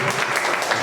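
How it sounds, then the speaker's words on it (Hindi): A brief burst of audience clapping at a ghazal gathering, dense and close, with a voice faintly underneath. "जोरदार तालियां बजाएं उसको प्रोत्साहित करें"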